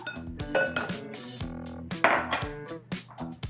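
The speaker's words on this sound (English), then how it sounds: "Just because I want to scrape all that out of there." A utensil scrapes and clinks against a mixing bowl as six egg yolks for flourless chocolate muffins are cleared out, a close run of irregular ringing taps and scrapes with no talk.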